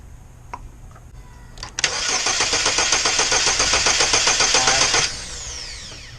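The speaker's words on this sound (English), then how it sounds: "we're going to try to spin it over and see if we can get the fire up" Starter cranks the 2.2L Ecotec engine of a 2006 Chevy Cobalt with an ignition fault, a loud, rhythmic whirring churn lasting about three seconds without catching, after a few faint clicks and then fading to quiet.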